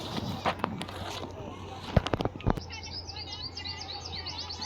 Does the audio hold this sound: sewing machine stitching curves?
no